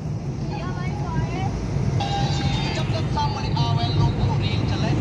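Car cruising gently on a narrow village road, a steady low cabin engine drone throughout, with people talking over it.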